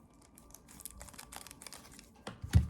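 A plastic sleeve for a powder-brow tattoo machine is folded in half and cut with scissors, giving faint, close crinkling rustles that build to a sharper snip near the end, with no voices.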